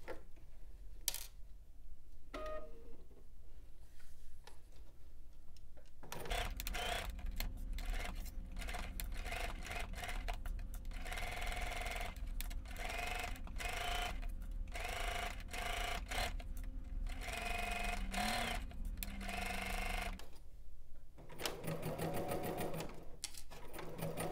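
A domestic sewing machine runs steadily up close, stitching a shirt yoke seam at a 5/8-inch seam allowance, its whirring motor broken by brief pauses and clicks for pivoting, with no talking.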